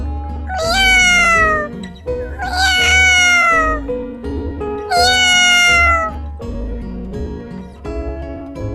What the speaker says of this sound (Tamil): பூனை எப்படி கத்தோம் மியாவ்